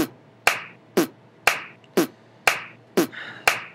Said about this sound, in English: this is a basic rock beat